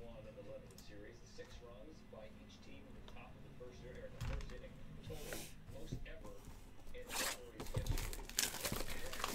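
A 2013 Panini Prominence NFL football card pack is torn open with quick crinkling and ripping bursts, close and crisp, under ongoing talking.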